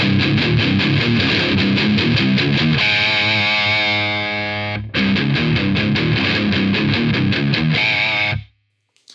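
An electric guitar played through a Joyo Taichi distortion pedal with the volume pushed full gives heavy, saturated riffs with chugging rhythmic chords and a sustained held note mid-phrase, loud and close, ending abruptly.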